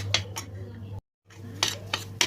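A spoon scraping and clinking in a pan while helva is roasted and stirred, a few close metallic strokes, then a short silent gap, then more stirring, with faint speech in the background.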